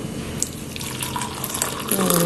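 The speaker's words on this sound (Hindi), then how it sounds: "तो ये दूध डालेंगे हम अपनी" Hot milk is poured into coffee, a continuous close liquid stream splashing into a cup, steady and fairly loud throughout.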